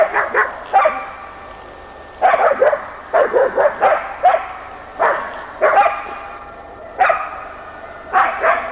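Young Laika hunting dogs bark at a bear during a Russian Laika trial on bear and boar, giving repeated sharp barks in uneven bursts with short pauses. They are fairly close and loud, with no talk.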